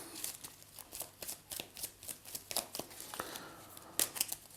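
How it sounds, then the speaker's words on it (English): A deck of cards for the board game Heat is shuffled by hand at close range, in a quick rhythmic series of riffles and snaps with a final flurry near the end and no talking. "I'm gonna shuffle my deck."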